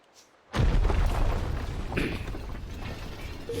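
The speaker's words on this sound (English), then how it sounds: "Was that an explosion?" Explosion in the video game Ni No Kuni II: after near silence a sudden deep boom bursts in, followed by a sustained rumbling roar with debris-like crackle that slowly eases off.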